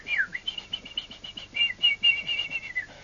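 A person's voice whistles an imitation of a shortwave radio birdie, a thin wavering tone that slides and warbles for about three seconds with no talk over it.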